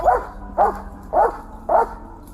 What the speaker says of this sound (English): The dog barks close by as the cops urge the suspect to come out.